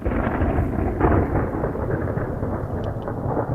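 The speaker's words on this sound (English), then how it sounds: "You can just hear the roar from that thunder." Thunder snow rumbling through an Iowa winter storm, a deep, loud rolling roar that swells and lingers, dense low rumble throughout with no speech.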